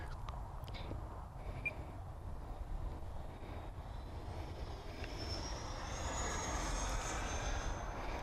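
An RC Freewing F-4 Phantom II with a 90mm electric ducted fan on 8S power flies at a distance. Its whining jet roar stays faint and steady, then swells slightly toward the end.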